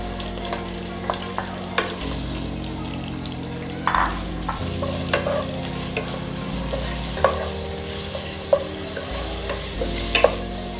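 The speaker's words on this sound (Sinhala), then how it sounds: "පොල් තෙල් එක හොඳට රත් වුණාම අපි කුරුඳු පොතු කරපිංචා සුදු ලුණු අවමිරිස් ටික අපි ඒකට" Cinnamon bark, curry leaves, garlic and chillies frying in hot coconut oil for a baby jackfruit curry, a steady sizzle with repeated scraping stirs and spoon clinks over about eleven seconds, close and alone with no talking.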